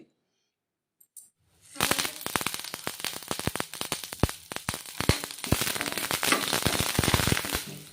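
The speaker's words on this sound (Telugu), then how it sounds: "ఇవన్నీ ఫ్రై అయిన తర్వాత కొద్దిగా కరివేపాకు కూడా వేసుకోవాలి." Curry leaves dropped into hot oil with raw prawn spice powder, bursting into loud, dense crackling and popping after a brief quiet start, continuing steadily to the end.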